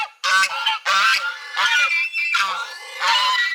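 Goose honking repeatedly at a nature resort in Malaysia, five loud harsh calls close by in an uneven rhythm, standing alone without talk.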